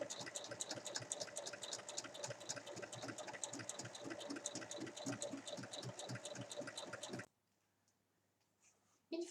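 A sewing machine topstitching a fabric seam on a tote bag runs in a fast, steady clatter of stitches for about seven seconds, then stops abruptly, leaving near silence before a brief restart at the end.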